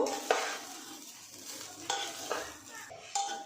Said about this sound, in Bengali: সব উপকরণগুলো একসঙ্গে নাড়াচাড়া করে কিছুক্ষণ ভেজে নেব।